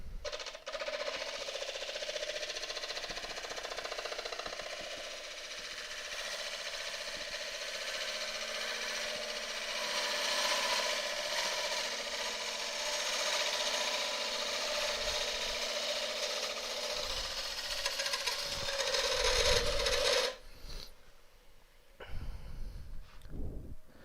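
Wood lathe turning an elm burr, a continuous whirring, grinding hum of the spinning workpiece under a cutting tool, fairly loud and steady for about twenty seconds before stopping abruptly and leaving a few quiet knocks.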